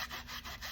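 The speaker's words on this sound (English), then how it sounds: "just rub off the midsoles. Get them as clean as you possibly can." Shoe midsoles being scrubbed clean, a steady dry rasping rub in quick back-and-forth strokes, close up and alone with no voices.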